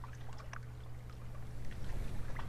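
A character swims in water in the video game Zombi Warrior, with soft, close splashing and sloshing strokes over a steady low hum.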